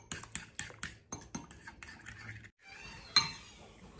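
Seasoning is stirred together with curry powder for a shrimp stir-fry, giving a quiet rhythmic scraping and clinking of a utensil against a bowl in short repeated strokes, then a brief pause and a final rattle.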